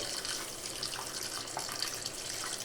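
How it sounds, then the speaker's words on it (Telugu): Water runs over raw chicken in a bowl as it is washed with salt, a soft, steady splashing stream at low volume with faint drips throughout. "దీంట్లో కొంచెము వాటర్ వేసేసి మనము సాల్ట్ వేసి"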